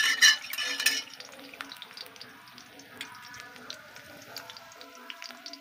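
Onion and green chilies dropped into hot oil in a pan, with an initial loud burst of sizzling, then a quieter steady crackle and occasional spoon scrapes.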